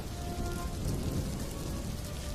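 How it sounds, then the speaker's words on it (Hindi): Steady, dense rain falling and pattering on surfaces, a continuous even hiss of drops throughout with no voices. "तभी अचानक वर्षा होने लगी"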